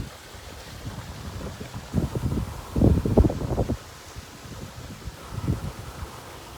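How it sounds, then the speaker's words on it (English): Wind buffets the microphone outdoors beside a koi pond in Barbados, with low rumbling gusts that swell and fade in uneven bursts over a soft steady background, and no voices heard. "Hopefully, it's not too windy."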